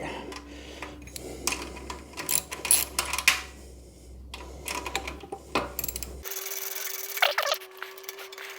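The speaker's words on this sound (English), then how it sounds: "So this is a 13mm socket. I do have a nut on the other side of it." 13mm socket wrench turning a nut beneath an Indian FTR motorcycle: close, irregular metallic clicks and scrapes of the ratchet and tool against metal, coming in short bursts with pauses between, no talk.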